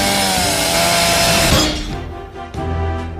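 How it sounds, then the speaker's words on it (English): Chainsaw running at full throttle, a loud, harsh buzzing roar that drops off suddenly around the midpoint to a lower idle with a brief rev near the end. "I just stopped a chainsaw with my bare hands."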